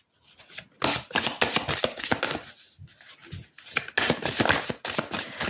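Tarot cards being shuffled by hand at a full-moon reading, a dense run of crisp riffling and slapping bursts broken by short pauses, close and fairly loud with no talking.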